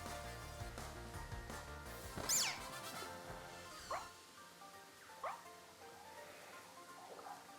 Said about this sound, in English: Would you guys stop barking